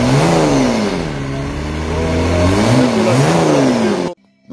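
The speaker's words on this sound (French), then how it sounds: "Le moteur il démarre enfin dans cette vidéo." A BMW E36 with a swapped-in 330d diesel engine idles and revs loudly and close up, its pitch rising and falling through several blips before cutting off abruptly near the end.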